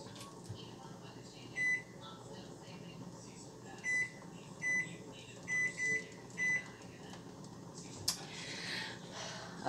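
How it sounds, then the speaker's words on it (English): A kitchen timer being set, giving a series of short electronic beeps spaced a second or so apart, quiet and close against a faint room background. "hold on, let me set my timer"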